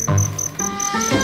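Crickets caught in a garden give loud, close, rapid chirping in short repeated pulses with brief gaps between them.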